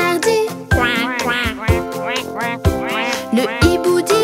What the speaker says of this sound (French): Le canard dit